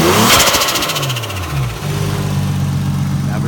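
Toyota JZX90 with a single T67 turbo revs hard, the engine note sweeping up and falling back before settling into a steady idle, loud and close throughout.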